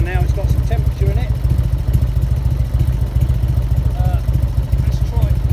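A Harley-Davidson Heritage Softail Springer motorcycle engine idles after warming up, giving a steady, loud, low rhythmic thumping that runs throughout, with a voice heard now and then over it.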